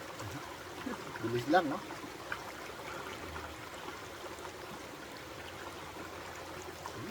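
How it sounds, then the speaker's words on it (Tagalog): Cold stream water runs and trickles steadily in a forest setting as hands wash something in it, a brief splashing burst near the start, with people talking over the flow. "Ito nga, hugasan natin dito."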